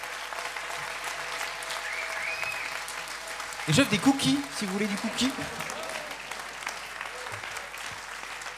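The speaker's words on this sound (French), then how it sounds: "Applaudissements plus que mérités" Press-conference crowd applauds a Vendée Globe 2024 skipper, a steady wash of clapping with someone speaking over it through the middle.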